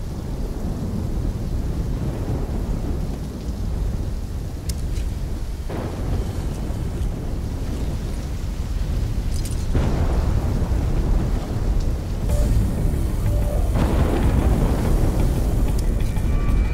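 A thunderstorm in Call of Duty: Black Ops III, a steady roar of wind and rain with several deep thunder rumbles and cracks rising above it, no voices.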